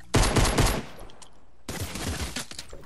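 Gray pistol fire in a video game comes as a rapid burst of close, loud shots, then a short quiet gap, then another quicker run of shots, with no voices.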